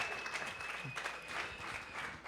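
A high school football crowd applauds a senior wide receiver, a steady wash of clapping heard at a quiet distance, with a thin high tone running underneath.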